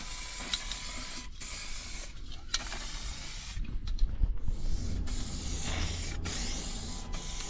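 An aerosol spray can applies primer paint to a Royal Enfield Classic 350 motorcycle part in a small enclosed space, giving steady close hissing bursts separated by short pauses.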